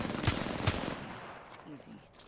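Apex Legends gunfire in a Kings Canyon match, two sharp close shots in quick succession followed by fainter distant pops and game sounds, with a voice talking over it.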